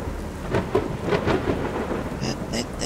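Loud thunderstorm in Strayed Lights: heavy steady rain with rolling thunder rumbles, a few sharp cracks, and faint chime-like tones toward the end.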